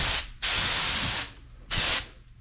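A Kremlin paint spray gun lays a light coat on a shiplap range hood in three bursts of loud close hissing, one long and two shorter, separated by brief pauses.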